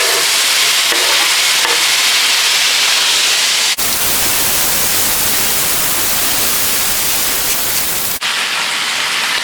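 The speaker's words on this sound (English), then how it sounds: "in a preheated pan, let's cook the bacon. No need to add any oil" Bacon frying in a preheated pan without oil gives a loud, continuous hiss and crackle with dense spattering, the texture shifting sharply twice as if the strips are moved, with no voices.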